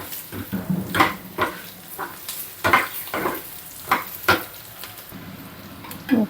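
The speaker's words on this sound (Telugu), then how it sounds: "పసుపు యాడ్ చేసుకున్నాక ఒకసారి ఇలా కలుపుకోవాలి" Lemon rice with turmeric is stirred in a pan, with a spoon making repeated scraping strokes against the metal in an uneven rhythm over a soft background sizzle.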